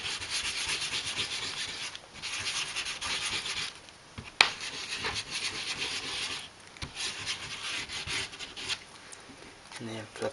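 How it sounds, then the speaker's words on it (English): Wax being rubbed by hand across the face of a wooden base piece, a steady dry scuffing and rasping that runs in continuous strokes with brief pauses, close and fairly quiet. "apply a lot of wax. Just rub it all over the face."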